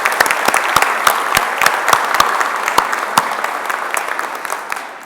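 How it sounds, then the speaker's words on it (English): A large audience claps loudly in a hearty round of applause welcoming new IATA member airlines, with dense crisp hand claps sustained evenly throughout. "Please join me in a hearty round of applause to welcome all our new members to the IATA fold."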